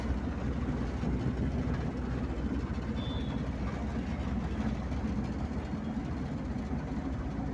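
Pickup truck cruising on the Naogaon to Bogura highway, heard from inside as a continuous low engine drone and road rumble, loud and unbroken.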